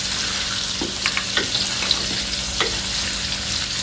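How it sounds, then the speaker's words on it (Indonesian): Raw kepayang fruit frying in a pan with onions already wilted and golden, a steady close sizzle with occasional stirring scrapes and pops. "Kita goreng buah kepayang ni"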